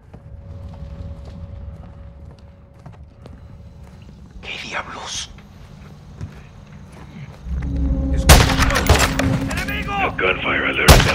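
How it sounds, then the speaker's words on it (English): Sharp bursts of gunfire in Call of Duty Modern Warfare II crackle loudly in the latter part, following quieter ambient noise, a faint clatter and a brief voice. "Gunfire alerted them."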